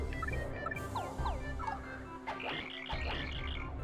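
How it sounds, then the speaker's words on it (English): Frog croaking sound effect from the Paper Mario video game, heard as several quick croaks with rising chirp-like tones over steady game music, moderately loud and without talk. "A frog."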